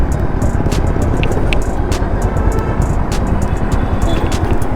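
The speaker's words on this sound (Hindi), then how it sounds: "ये बुश की आवाज़ है जो आ रही है गाड़ी में" Broad, steady engine running of a Royal Enfield Classic 500 Desert Storm motorcycle, nearby and loud with faint ticks over it, as a worn bush knocks during repair at a roadside bike repair market in Pune.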